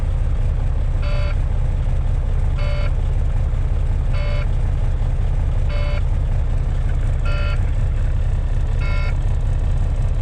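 Six evenly spaced electronic beeps from a pressure alarm sound roughly every second and a half over a steady, loud engine rumble.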